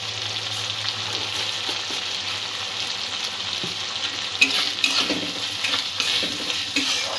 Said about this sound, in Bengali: ভালো করে সমস্ত উপকরণগুলো একটু কষিয়ে নেব।